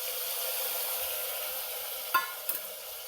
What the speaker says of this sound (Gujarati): ફરી આપણે આવી રીતે બધું મિક્સ કરી લેશું.